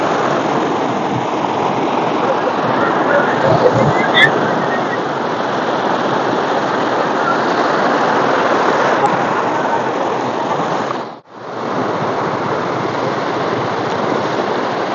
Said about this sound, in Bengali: এখানকার যে ঢেউগুলো তোমরা দেখতে পাচ্ছ